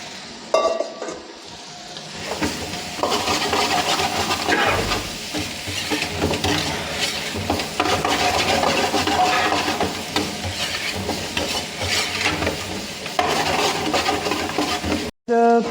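Mutton hits a pan of roasted Kolhapuri masala, garam masala and chutney powder in a busy hotel kitchen, sizzling loudly and continuously with stirring and steam hiss, fading abruptly near the end.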